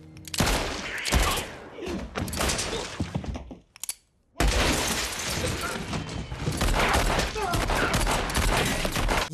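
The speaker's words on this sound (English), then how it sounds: "are they gonna start firing on everybody at once?" Gunfire erupts in a dense, chaotic volley from The Hateful Eight, a 2015 film, with loud rapid shots and crashes, a sudden brief silence, then more heavy firing, with voices reacting underneath.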